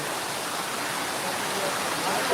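A cloudburst-like downpour pours over Pirachi Kuroli village with floodwater rushing through merged streams and drains, a loud continuous hiss and roar that swells slightly toward the end.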